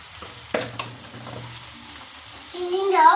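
Bengali rohu fish curry being stirred in a pan: a soft continuous sizzle with a few scraping strokes of the spoon, growing slightly louder toward the end.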